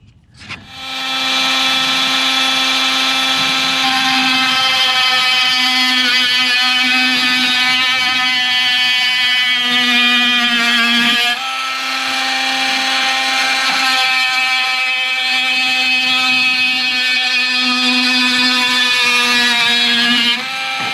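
A power saw whines loud and steady through a straight plunge cut in a timber panel, holding a strong tonal drone with a brief dip midway, then carrying on.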